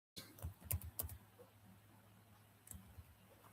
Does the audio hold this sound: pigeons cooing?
no